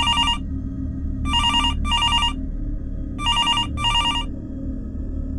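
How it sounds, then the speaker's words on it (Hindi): A telephone bell rings in bright, shrill bursts: one ring, then two close pairs of double rings. The rings sit over a low, steady rumbling background with no talk. "फोन की घंटी तेजी से बजती है।"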